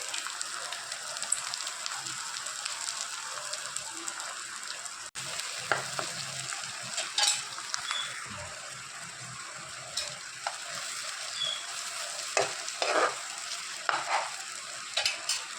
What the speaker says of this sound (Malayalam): തേങ്ങാക്കൊത്തും ഇതിലേക്കിട്ടുണ്ട് കേട്ടോ അതൊന്ന് വറുത്തെടുക്കാൻ വേണ്ടിയിട്ടാണ്